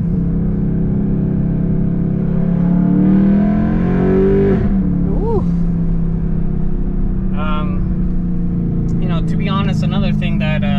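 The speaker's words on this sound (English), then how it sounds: "in typical fashion, traditional downshift" A BMW E92 M3 performs a downshift with the engine revving up sharply, a loud, close roar that climbs and blips before settling back to a steady idle rumble, with a voice talking over it.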